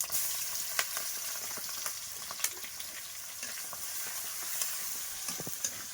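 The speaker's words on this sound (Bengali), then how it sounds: "রসুনটা একটু ভেজে নেবো" Chopped garlic sizzles in hot oil with panch phoron spices, bay leaf and green chilli, a steady close frying hiss broken by small crackles and faint stirring, with no one speaking.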